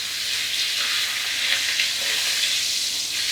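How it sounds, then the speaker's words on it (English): A leg of lamb sears in a pan of butter and oil, giving a steady, close sizzle with soft crackles and no voices. "Just make sure that lamb is nicely sealed, and then that's going to go into that pan then of butter and oil"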